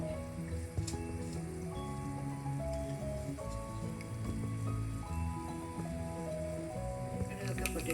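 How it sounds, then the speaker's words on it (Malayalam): Half a teaspoon of mustard seeds pop in hot coconut oil with scattered quick ticks and crackles, quiet under steady background music. "1/2 ടീസ്പൂൺ കടുക് ഇട്ട് പൊട്ടിക്കാം."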